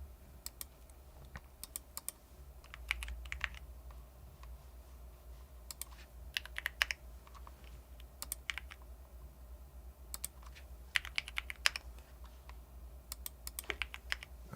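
Computer keyboard typing during a Type Racer race, with bursts of quick, uneven keystrokes clicking close by and pausing briefly between runs, over a low steady hum with no voices.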